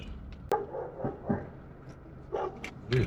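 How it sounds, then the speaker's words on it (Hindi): Big dogs bark at a petrol station in Turkey, several short, sharp barks scattered through the clip over a steady background rumble, moderately close. "ओए, इतने बड़े कुत्ते हैं, शेर की तरह नहीं, रीछ की तरह।"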